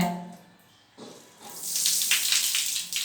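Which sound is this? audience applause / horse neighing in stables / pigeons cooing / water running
water running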